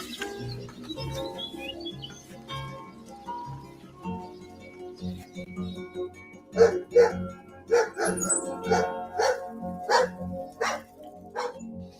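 A dog barks in a quick, regular run of loud, close barks through the second half, after a quieter opening with a low background and possible faint talk.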